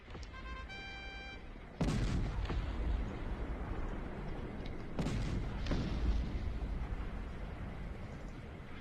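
Artillery fires in the video game Cossacks: Art of War: a short series of electronic beeps, then a deep booming cannon blast followed by a second one, each with a long rumbling tail over steady battle noise.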